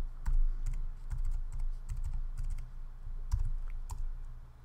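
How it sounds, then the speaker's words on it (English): Keys on a computer keyboard are tapped in short irregular bursts at close range, a quick clicking pattern of a password being entered with small pauses between groups. "SU-, and tap in my root user password."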